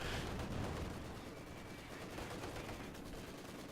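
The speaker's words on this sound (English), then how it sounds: "with that Maxim shooting at him" A Maxim machine gun fires in a World War II strategy video game, rapid distant bursts of muffled rattling gunfire blending into a dense battle din, fairly faint and unbroken, with no talk.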